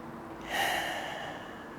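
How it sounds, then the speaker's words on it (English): A single slow, deep breath of air drawn in and let out during a guided relaxation exercise, soft and close, rising then fading. "Breathing in, breathing out."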